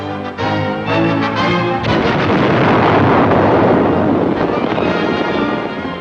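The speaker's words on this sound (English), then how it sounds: "800 men perish when the magazines explode." A huge, sustained roar of magazine explosions aboard the British battleship Barham after she was torpedoed and capsized, starting with musical tones before a dense, loud rumbling blast fills the rest, no talk.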